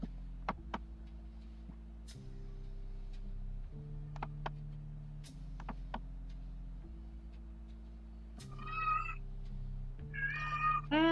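A pet cat meows twice near the end, fairly close and clear, after a stretch of steady low tonal hum with scattered ticks and clicks in a quiet room.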